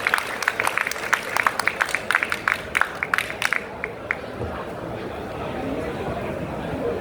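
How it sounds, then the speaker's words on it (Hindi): A gathered audience claps in a burst of sharp, fairly close hand claps at a talk, thinning out after a few seconds into murmuring room noise and chatter. "सब मिल करके हम इनके लिए एक बार जोरदार तालियां बजाएं"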